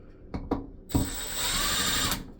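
Screws being tightened into an LED light fixture during installation, giving a few short, sharp ratcheting clicks followed by a sustained whirring tool sound, close up and with no talking.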